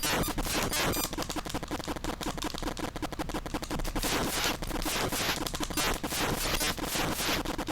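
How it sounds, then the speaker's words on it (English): Enemy blimps in the NES shooter Gyrodine fire a relentless stream of bullets, rendered as dense, rapid 8-bit gunfire crackle that runs loud and continuous with pulsing bursts throughout. "These blimps are a problem. They kind of hang around the screen, just keep shooting bullets at me."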